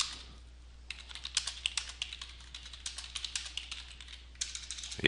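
Steady typing on a computer keyboard with quick, uneven keystrokes that run close and clear for several seconds over a low hum, with no one speaking.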